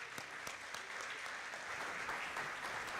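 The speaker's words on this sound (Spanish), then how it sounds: "quisiera invitarlos a que le demos un aplauso" An audience at an international seminar on pension systems claps steadily to welcome a speaker, a dense, even wash of applause from a crowd in a hall with a few sharper claps standing out.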